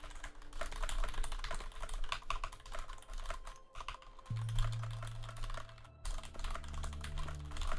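Fast keyboard typing at full speed during a live game stream, a dense run of clicky keystrokes over quiet background noise with a low tone entering partway through.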